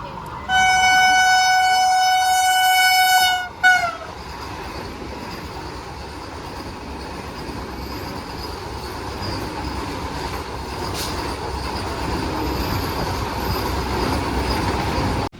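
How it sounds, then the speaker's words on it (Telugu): A Vande Bharat Express running from Visakhapatnam to Secunderabad rushes past at a crossing, preceded by a loud sustained horn blast, then a steady, dense roar of wheels and rushing air that continues close by. "ఇప్పుడు పోయిన ట్రైన్ వచ్చేసి వైజాగ్ నుంచి సికింద్రాబాద్కి వెళ్ళే వందే భారత్ ఎక్స్ప్రెస్ అనమాట"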